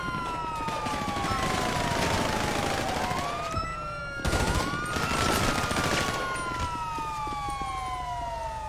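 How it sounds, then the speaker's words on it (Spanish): Dense bursts of gunfire in the video game GTA 5 rattle throughout, mixed with loud wailing police sirens that sweep up and down over the shooting. "Disparando, ¿dónde?"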